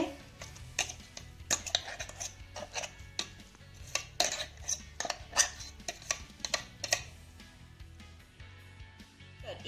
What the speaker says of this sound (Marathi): हा क्रश मी एका वाटीमध्ये काढून घेते